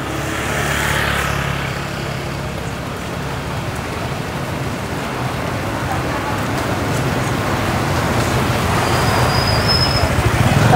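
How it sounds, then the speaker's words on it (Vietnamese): Heavy rain falls steadily on a street with passing traffic in Phú Yên, Vietnam, a continuous loud wash of rain and road noise throughout, with a faint high tone near the end. "Trời mưa to luôn rồi."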